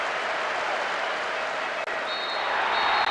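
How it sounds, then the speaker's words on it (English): Full-time crowd roar in the PES 2009 football video game: a continuous, loud wash of stadium applause and cheering that swells slightly toward the end, with a thin whistle-like tone appearing partway through. "The referee ends the game, and there's a huge roar from the crowd."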